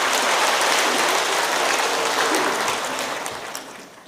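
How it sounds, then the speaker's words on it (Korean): A church congregation gives a warm round of applause during a Sunday service, a dense, hissing wash of clapping that holds steady and then fades out near the end. "뜨거운 박수로 감사합니다."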